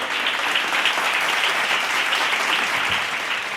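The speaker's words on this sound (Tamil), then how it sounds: "கைத்தட்டுங்க ஒரு தடவை." A church congregation at a late-night Bible study healing service claps together in a dense, steady burst of applause that fills the whole stretch, with no voices over it.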